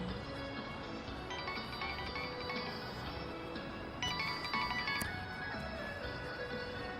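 A mobile phone ringtone plays as a repeating electronic melody at a steady, moderate level for several seconds, briefly brightening partway through, with no talking over it.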